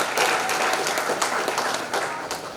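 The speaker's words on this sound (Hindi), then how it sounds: "तो एक बार इस धरती के लिए जोरदार तालियां हो जाए" Loud, dense applause from a crowd at a Hindi-language public gathering, sustained throughout with steady clapping and no pause.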